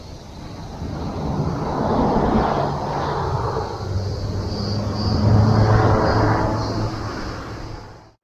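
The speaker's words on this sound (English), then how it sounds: "So I guess the planes must either come in here or take off there or something, because it is going like that way up there." An airplane passes near the runway on Ikaria island in Greece, a broad roar that builds, holds and fades over several seconds, with wind noise on the microphone.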